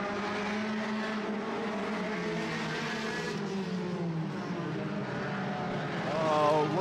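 Sport compact race cars at El Paso County Raceway, engines droning steadily at mid distance through the whole stretch, a continuous layered roar with no clear passes, and a commentator's voice running over it.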